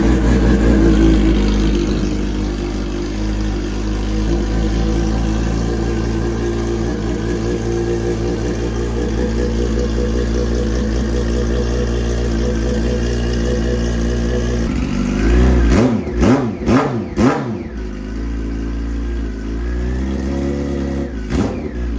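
A 2004–2006 Yamaha R1 motorcycle, fitted with a Toce mid-pipe cat delete, idles loud and close, then snaps through several sharp, rapid revs near the end before settling back to idle.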